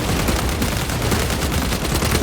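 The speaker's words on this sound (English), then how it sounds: "Hive beast sighted. Frag grenade out!" A frag grenade explosion and gunfire in the Warhammer 40k Space Marine 2 video game make a dense, loud barrage of rapid shots and blasts that stays continuous for a couple of seconds.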